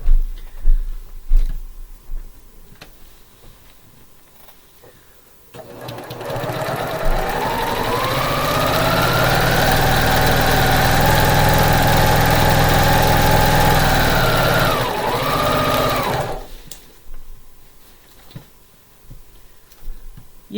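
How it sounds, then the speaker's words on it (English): Sewing machine stitching a quilt piece a quarter inch from drawn lines: a steady motor whir runs for about eleven seconds, with pitch shifts as the speed changes, framed by quiet handling noise before and after. "So I'm going to sew a 1/4 inch to the right and left of the lines"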